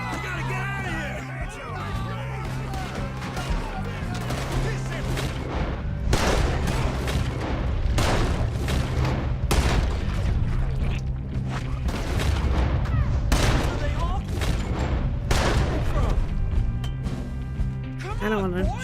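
Gunfire rattles through a shootout in the video game Red Dead Redemption II, repeated loud shots and booms in irregular bursts with shouting voices over the top.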